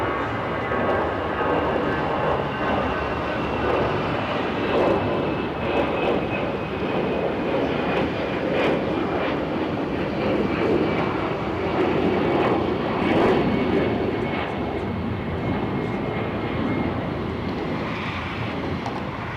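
Airliner jet engines roaring steadily at a German airport during pushback, a loud continuous broadband rumble with faint whining tones, heard from a spotting position without talk.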